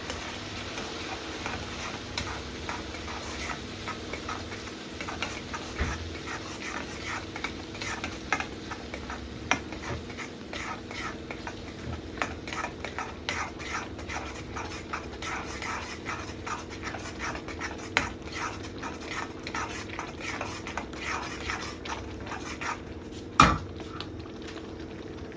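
Karela bhaji with raw mango chutney is stir-fried in a pan: steady, quiet scraping and stirring with a low sizzle and occasional utensil knocks against the pan, continuing throughout without talk.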